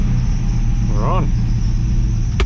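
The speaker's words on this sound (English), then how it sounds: "Belt's still squealing like crazy because I've got to try and fix my tensioner." An engine belt squeals from a slipping tensioner on a turbo Toyota Hilux 4x4, a brief rising and falling whine over a loud, steady engine rumble, ending with a sharp click.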